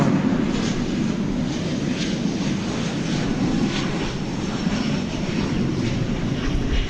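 An American Airlines Airbus A321 takes off at night from DFW, a steady broadband jet roar filling the air at moderate distance and holding level throughout, with no voices.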